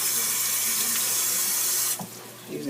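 A kitchen tap runs at full flow while hands are washed, a steady close rush of water that cuts off abruptly near the two-second mark, leaving quieter splashing and handling sounds.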